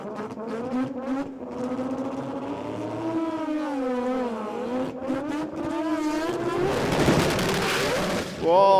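A 20B rotary-engine drag car launches, its engine wailing up through rising gear pulls before a rough burst of noise, loud and close with voices talking over it.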